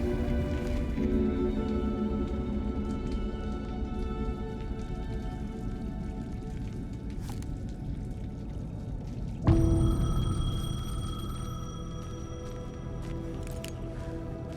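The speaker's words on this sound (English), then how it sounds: "The payphone was ringing." A payphone rings in the survival horror game Alan Wake 2, its bell tones sounding over steady rain, with a sharp burst partway through and the ringing continuing afterward.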